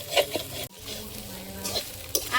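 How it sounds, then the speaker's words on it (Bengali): Potatoes and eggplant fry with spices in a pan, giving a soft, close sizzle broken by a few stirring scrapes and clinks. "আলু বেগুন ভালোভাবে মশলার সঙ্গে ভেজে নিয়েছি, আর একদম সুন্দর ভাজা হয়েছে"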